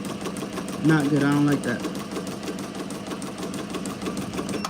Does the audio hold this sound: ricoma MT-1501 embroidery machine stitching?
yes